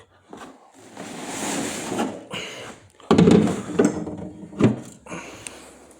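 Car door of a Tesla Model 3 Highland handled at close range: a soft rustle, then a few sharp clunks and latching knocks in quick succession, with quieter shuffling between them.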